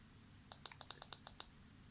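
Small button clicks from a vape device, a quick run of about eight crisp, evenly spaced taps close to the microphone over a quiet background.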